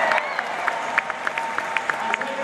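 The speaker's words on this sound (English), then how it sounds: "Let's give a big round of applause to the players" A crowd at a basketball game applauds the players, a dense patter of clapping with scattered sharper claps throughout, moderately loud and continuous.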